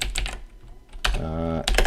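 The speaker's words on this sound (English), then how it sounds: "you can type that nicely to make sure it works" Computer keyboard typing while entering code, a short burst of quick clicks with a brief voice in the middle and more tapping at the end.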